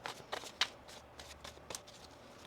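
Tarot cards being shuffled by hand: a few soft, quick riffling bursts, close but quiet, separated by short pauses.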